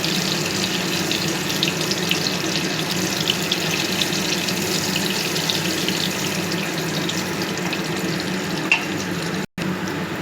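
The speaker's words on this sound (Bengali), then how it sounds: "সুন্দর করে লাল লাল করে কোপ্তাগুলো ফ্রাই করে নেব" Koftas frying in shallow oil give a steady, close, even sizzle with a faint watery bubbling texture throughout, uninterrupted and without any voices.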